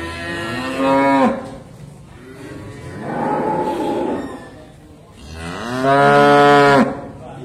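Cattle at Sukorejo livestock market in Kendal: three loud, close moos, one long and strained, one rougher and breathier, one drawn-out, with faint market bustle between calls.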